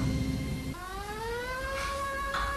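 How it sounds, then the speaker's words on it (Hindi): A police siren wails with rising, sweeping tones that climb steadily over a couple of seconds, loud and close, with no talking. "सायरन"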